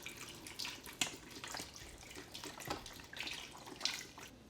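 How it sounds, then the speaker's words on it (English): Beef broth from a 32-ounce container poured into a stew pot, a soft continuous liquid splash and trickle with a few brighter drips, close and fairly quiet throughout. "First, you're going to want to add your beef broth."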